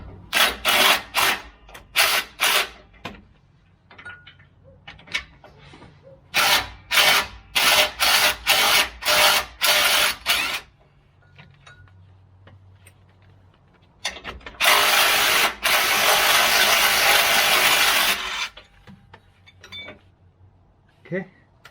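Shock bolts on a Land Cruiser being backed out with a hand ratchet: close, loud bursts of rapid clicking, a longer steady run of clicks near the end, and quiet pauses in between.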